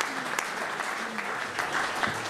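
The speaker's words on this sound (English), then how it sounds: "I saw your whole commission table clapping over there, Tim." Brisk clapping from a small group seated around a parks commission table, a steady patter of hands with faint voices underneath, heard at a moderate distance.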